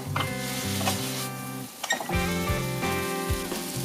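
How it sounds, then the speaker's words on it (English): Noodles and seafood stir-frying in a hot pan, a steady loud sizzle broken by scraping and clanking of the spatula against the pan, close up with no talk. "Toast them together until the seasonings coat the noodles and the seafood evenly."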